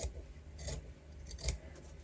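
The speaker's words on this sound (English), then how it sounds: "simply just taking a pair of scissors and trimming that seam allowance down to 1/4 inch" Scissors trim a fabric seam allowance on a sewing project, giving a few faint, soft snips and rustles close by in a quiet room.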